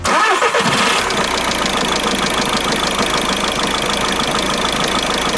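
A cold car engine cranks briefly, then catches and settles into a loud, steady idle with a rough, slightly knocking mechanical chatter, heard close up and without any talking.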